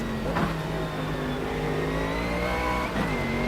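A race car engine in the video game Automobilista 2 revs and drones continuously, pitch rising and dipping through gear changes, loud and close, with no talk.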